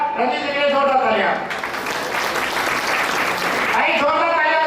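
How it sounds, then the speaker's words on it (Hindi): An audience applauds at a business seminar, with clapping swelling in the middle between stretches of amplified voice or music at the start and end. "जोरदार तालियां"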